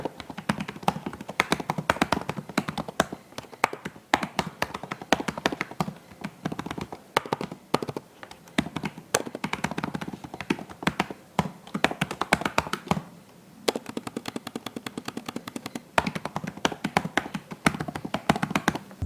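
Rapid, steady typing on a Realme Book laptop keyboard with a microphone placed right beside it, giving loud, close clacks in continuous bursts with a brief pause midway.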